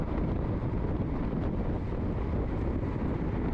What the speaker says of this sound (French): Ici, donc, vent de face comme je vous expliquais, donc là on le sentait, c'était horrible.